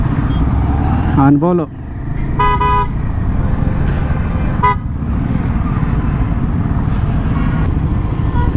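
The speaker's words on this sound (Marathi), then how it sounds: "बेंगलोरचा ट्रॅफिक चालू झालेला आहे" Busy Bangalore city traffic around a motorcycle on a long-distance ride, with steady engine and road roar, several short car horn toots and someone speaking over the din.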